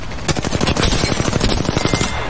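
Rapid, dense bursts of rifle gunfire crackle loudly during a firefight in Apex Legends, with a single-fire Hemlok rifle in play.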